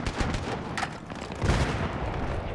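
Gunfire in the PC shooter Battlefield 3, a dense stretch of game battle noise with several sharp shots popping through a steady rumble of combat.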